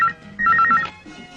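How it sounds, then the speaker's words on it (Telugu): A telephone rings with a short repeated electronic trill, a close, fairly loud pattern of quick bursts alone without speech. "అమ్మా రింగ్ అవుతోంది"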